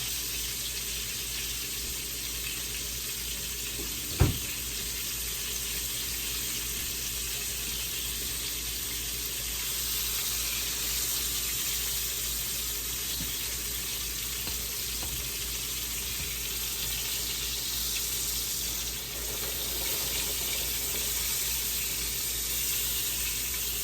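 Lima beans boil in a pot on a home kitchen stove, a steady hissing bubble that runs continuously, with one sharp knock early on.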